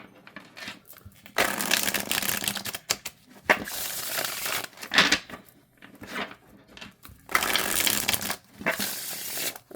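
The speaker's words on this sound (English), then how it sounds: "Okay, let's shuffle these." A deck of Sion Tarot cards is shuffled by hand in several bursts, crisp riffling and slapping of card stock alternating with short quiet pauses, close and fairly soft.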